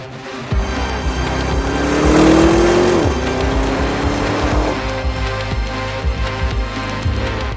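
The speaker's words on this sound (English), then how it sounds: "I think they'll be able to hear the RSQ8 roar all the way back in Manali." An Audi RS Q8 climbs mountain hairpins with its engine roaring loudly up through the revs, dropping off at a gear change or corner, then pulling hard again with a throbbing, close exhaust note and no speech.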